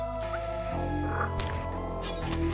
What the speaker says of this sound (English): The elder frog.